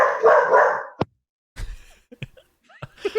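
A dog barks in a few short, sharp bursts separated by pauses, with a louder, more sustained stretch of barking at the start and faint yips near the end.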